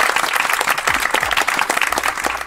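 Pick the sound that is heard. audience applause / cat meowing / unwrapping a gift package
audience applause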